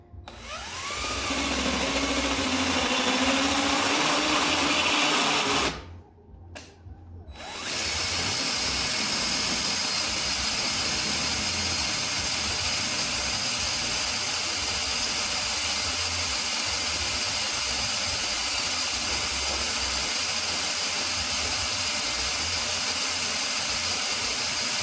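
A power drill bores a half-inch hole through a weld, giving a loud, steady high-pitched whine that briefly stops and drops out before resuming and running continuously for a long stretch.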